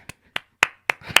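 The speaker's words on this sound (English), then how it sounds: "Everybody clap it up for Kevin Samuels." A few sharp, separate hand claps ring out, roughly evenly spaced and close, with no voices over them in the brief moment.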